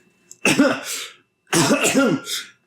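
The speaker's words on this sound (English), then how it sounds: "he begins to cough." A gruff, sun-beaten sailor coughs in two harsh, throaty bursts separated by a short pause, close and loud; a voice performs the coughing.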